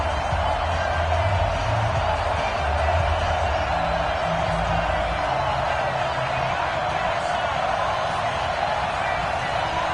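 A stadium crowd roars in a steady, continuous wash of cheering in an EA Sports NFL video game, Seattle Seahawks against Arizona Cardinals, loud and unbroken throughout.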